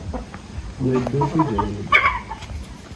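Chickens cluck and a rooster calls at an Uzbek poultry market in Namangan, with several overlapping bird voices rising in the middle, close and fairly loud over a busy background, with no voices talking.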